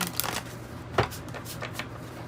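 Tarot cards shuffled by hand, a close papery riffle and slide with a few soft taps, in a short burst of continuous rustling.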